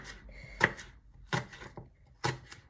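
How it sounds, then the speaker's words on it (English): A knife chops spring onion on a board in three crisp, close strikes spaced about a second apart, with a light rustle between them. "cutting up your spring onion into small little sections"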